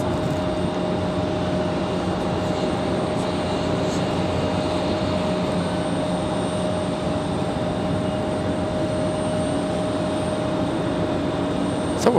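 Airbus A340 airliner engines at Raleigh-Durham airport, a steady broad roar with a thin sustained whine on top, even in level and moderately loud throughout.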